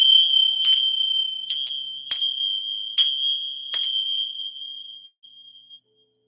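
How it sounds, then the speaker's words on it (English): A sacred chime is struck six times at uneven intervals, each bright metallic ring hanging on and fading slowly, the tones overlapping before the last one dies away into quiet. "Now I'm going to go ahead and use my sacred chime to cleanse the area"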